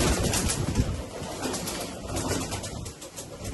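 Pigeons, including a white one, coo softly and steadily at close range amid a busy, noisy background.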